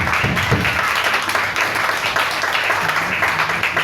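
A church congregation applauding in praise of Jesus Christ during an Easter service: dense, loud, continuous clapping from many hands filling the whole stretch, with faint voices mixed in.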